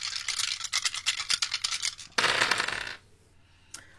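Dice clatter and rattle in a rapid run of small clicks, followed by a louder tumbling burst and a final single click, close and fairly loud with no talking.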